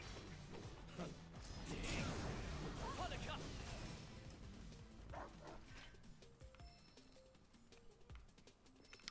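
A dog barks and yips in the video game Final Fantasy VII Rebirth, several sharp barks close by over game sounds and mechanical clatter, fading toward the end.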